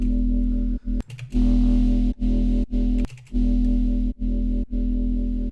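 A deep, smooth sine-wave synth bass from the Vital synthesizer, for drum and bass, plays in short sustained notes with tight gaps between them, dense and evenly compressed, without distortion.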